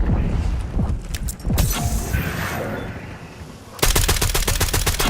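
Close gunfire in Black Ops 6: dense automatic shots early on, a lull with background rumble, then a fast, evenly spaced volley of loud rounds at the end.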